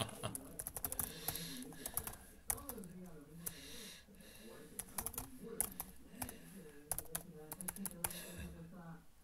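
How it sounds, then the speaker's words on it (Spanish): Rapid typing on a computer keyboard, close and clattering in uneven bursts of keystrokes, with a person talking over it. "Tecleo fatal."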